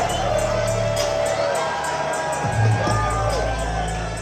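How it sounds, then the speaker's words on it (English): Capacity crowd of about a thousand at a Nordic Elite Wrestling show in Amager Bio, a dense continuous roar of cheering and whoops filling the hall, loud and sustained, with a swell near the middle. "Look at this venue, this capacity crowd."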